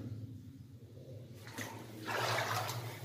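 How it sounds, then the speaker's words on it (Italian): Water trickles and flows down stone terraces fed by a tiny lake above, near an old mine; a steady soft rush swells louder and brighter in the final second. "È alimentata da un piccolissimo laghetto lassù che fa scorrere l'acqua tutta divisa per questi terrazzamenti"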